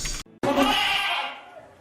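A voice imitating a goat, giving one loud, close, wavering bleat of about a second and a half that trails off, preceded by a short clipped sound.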